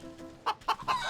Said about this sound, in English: I need to deal with the goose first.